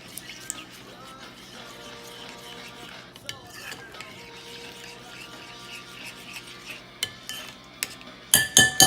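A spoon scrapes and clinks in a bowl as heavy whipping cream is stirred into a keto fudge mixture, with soft continuous mixing and a few sharper taps ending in a quick run of clatter.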